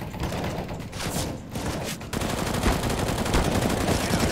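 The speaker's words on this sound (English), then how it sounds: "Is this suppressing fire?" Sustained automatic gunfire rattles in a CS:GO match, dense and continuous bursts growing heavier in the second half, loud and close with no talking.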